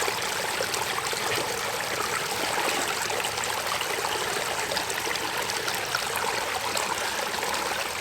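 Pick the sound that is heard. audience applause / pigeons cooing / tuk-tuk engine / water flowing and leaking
water flowing and leaking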